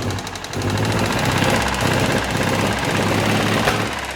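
An old car engine, unused for about twenty years, runs rough and tappety as it is revved, giving a loud, steady, rattling drone with a dense knocking texture throughout, close and with no voices.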